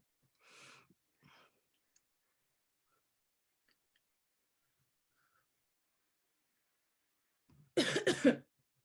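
A short quiet sound near the start, then silence, then a loud, harsh cough burst close by, two or three rapid hacks from a woman after a deep drag on a cigarette.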